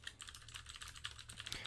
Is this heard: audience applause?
no